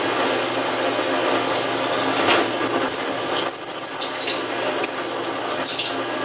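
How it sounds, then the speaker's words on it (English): A power drill bores through the skull plate of a deer, giving a steady grinding whir with scraping, ratcheting bits of bone as the bit works through. "You want to drill clear through until it goes through the skull plate."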